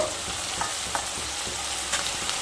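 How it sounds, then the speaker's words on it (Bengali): Chopped spring onions are stirred into fish frying in oil in a pan, a steady close sizzle broken by soft scraping strokes of the spoon at a regular pace. "আবারও খুব ভালো করে মিশিয়ে নেব"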